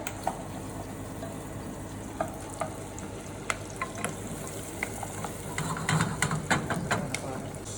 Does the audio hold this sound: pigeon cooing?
no